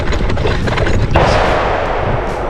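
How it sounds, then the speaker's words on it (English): Gunshots from a gun range in Osceola forest carry over a vehicle rolling on packed dirt roads, loud booming reports blending into dense, rumbling road and wind noise. "I guess people get up early to shoot guns."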